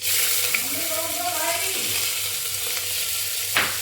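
Chana dal with green chillies frying in a hot pan for a lobia curry, giving a steady, close sizzle with soft stirring that holds evenly across the clip.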